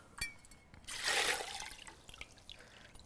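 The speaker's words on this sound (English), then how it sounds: "I'm now going to put my seeds into a strainer, get all the excess water out of them." Water drains from saved tomato seeds through a kitchen strainer in a brief rushing pour that trails off into light trickles and drips.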